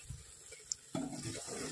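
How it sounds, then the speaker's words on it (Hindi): Water poured into a pan of chole spices frying in oil, for chola puri: after a quiet moment a sudden loud hiss and sizzle bursts up and keeps bubbling steadily to the end. "ये जले नहीं इसमें, इसलिए डालेंगे थोड़ा सा पानी और इसको अच्छे से मिक्स करेंगे।"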